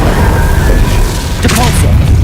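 A Confringo blasting spell goes off in Hogwarts Legacy: a loud, booming burst within dense, rumbling combat noise, with a brief whooshing flare partway through.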